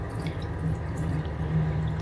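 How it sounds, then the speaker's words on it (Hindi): Water drains from a pot of soaked rice as it is poured off for fried rice, a steady close trickle with soft dripping that runs for about two seconds without a break. No one speaks. "पहले इसका पानी निकाल लेते हैं।"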